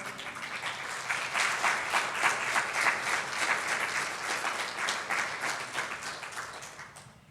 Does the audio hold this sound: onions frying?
no